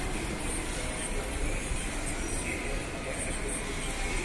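A SuperVia CNR series 3000 commuter train rolls through Madureira station in Rio de Janeiro with a continuous, broad rumble and a faint high whine across the whole span.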